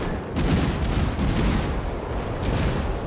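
The Nagato battleship's 16-inch guns fire in World of Warships, a heavy, rumbling boom that rolls on as a loud continuous roar for several seconds, with no voices over it.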